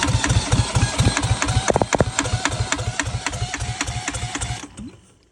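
An engine on a wooden boat is given gas and chugs in a fast, even, machine-like rhythm, close and loud, with a brief sharp rattle partway through. It then cuts out and goes quiet near the end.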